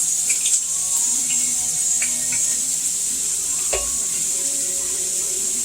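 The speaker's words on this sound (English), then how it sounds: "I rinse my rice like twice" Raw rice is rinsed in water for a white bean sauce dish, giving soft sloshing and trickling with a faint hiss and occasional small knocks, close by and without speech.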